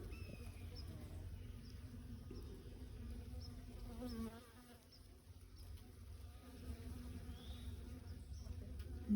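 Honey bees buzz around a backyard hive, a faint, continuous hum of many insects with occasional individual bees droning past nearby, quiet throughout.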